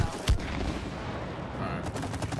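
Gunfire in the co-op video game It Takes Two, a brief sharp burst near the start followed by a faint rattling tail and ambient game noise.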